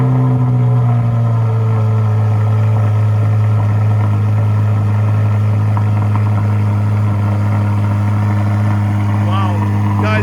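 Chevrolet Corvette C8 Z06, lowered, sits idling close by with its exhaust giving a loud, steady low rumble and drone throughout, with no rise or change in revs.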